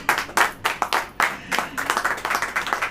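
A church audience claps together through a sermon, a run of sharp, uneven bursts of applause that build into a quicker steady patter.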